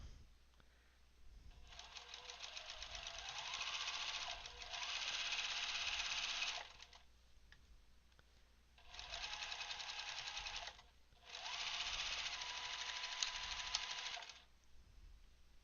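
A sewing machine runs in four bursts of rapid, even stitching along a seam, each lasting a couple of seconds with quiet pauses between, close and clear over a low background hum.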